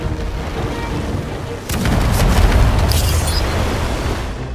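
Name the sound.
artillery firing in the video game Humankind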